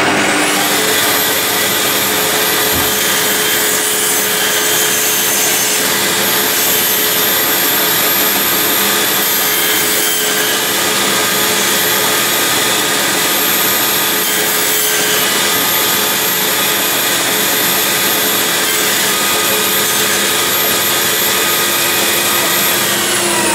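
A saw crosscuts wood across the grain during the restoration of a wooden roulotte, producing a loud, continuous, unbroken roaring whine that holds steady for over twenty seconds with no speech.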